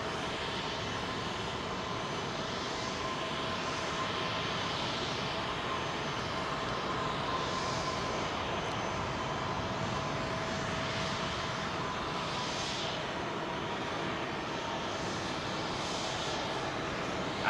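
Jet aircraft with CF6 engines on runway 27L at London Heathrow, a steady loud engine roar that holds for the whole stretch with a slowly shifting hiss, and no talk.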